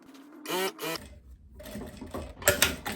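A domestic sewing machine stitches a tunnel seam around a loose long dress, short bursts of rapid mechanical stitching separated by pauses and fabric handling, close and fairly quiet.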